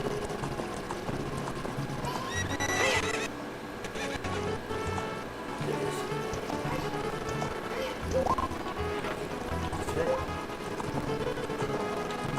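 A horse's hooves clip-clop in a steady rhythmic gallop as it approaches and takes a jump, with a faint whinny and busy background noise, and no one talking.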